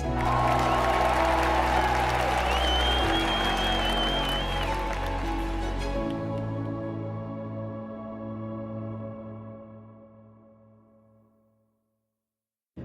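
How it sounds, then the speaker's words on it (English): Audience applause at the Crowns of Enterprise 2022 award show fills the room as a broad, sustained clatter of clapping, then gradually thins and fades away to near silence. "Let's give a round of applause"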